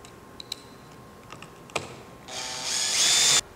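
A power driver fastens a roofing hip/ridge cap, giving a short, close, rising whir of about a second after a few light taps and clicks, with no voices.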